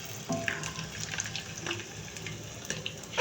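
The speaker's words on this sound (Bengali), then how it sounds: "এই যে কিরকম করে ফুটছে, এরকম করে একদম লাল টকটকা করে ভেজে নিব" Rice-cake pitha deep-frying in hot oil, a continuous bubbling sizzle with scattered pops and crackles, close and fairly quiet, no talking.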